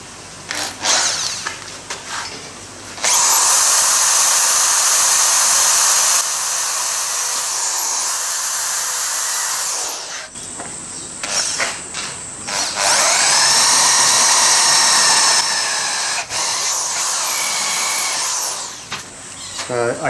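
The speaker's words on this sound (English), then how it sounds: "So I'm just going to spot drill through here with a 13mm bit, and then pilot drill it." A power drill with a 13mm bit bores a pilot hole through metal on a fabricated Victorian-style garden bridge, two long loud high whining runs separated by a short pause, with brief clunks and squeals between.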